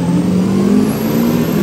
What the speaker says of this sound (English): The world's slowest burnout.